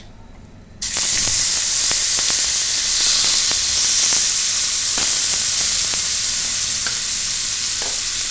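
Small prawns drop into a hot pan with turmeric and start a loud, steady sizzle of frying that holds without a break, with a few faint stirring clicks.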